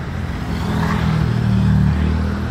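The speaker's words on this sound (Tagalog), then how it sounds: "yung mga papalayong sasakyan papunta ng Baguio City" Steady stream of cars and other vehicles heading toward Baguio City from La Trinidad, a continuous loud low engine rumble and road roar close by, with no talk.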